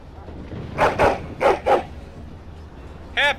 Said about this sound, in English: Happy barking!